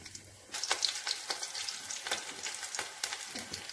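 Panch phoron, bay leaves and green chili frying in hot mustard oil in a kadai, a close, steady sizzle with crackling pops and light stirring scrapes throughout.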